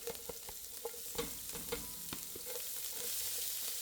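Chopped onion frying in a little oil in a pan for a Filipino sopas: steady close sizzle with repeated sharp stirring scrapes and taps of a utensil against the pan.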